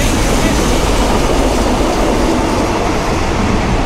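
Train at a railway station in Phrae, a loud, steady rumble of rolling railcars running through the whole stretch, close by and dense, with no clear voices over it.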